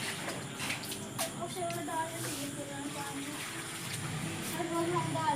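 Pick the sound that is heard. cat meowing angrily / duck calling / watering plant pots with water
watering plant pots with water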